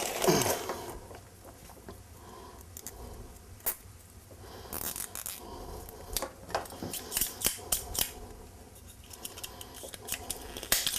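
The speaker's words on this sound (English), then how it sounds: "Grab it, pull it, spin it a couple times, and it really tightens that tie wrap nice and makes it easy to cut off the excess." A tie wrap tensioning tool pumps and grips a cable tie during holiday lighting installation, with repeated sharp metallic clicks and ratcheting snaps in irregular bursts, close and clear.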